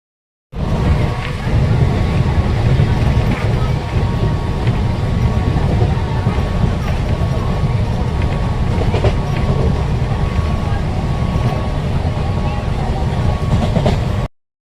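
A train to Khopoli rolls past with a loud, continuous rumble and rhythmic rattling of the cars, steady from start to finish before cutting off.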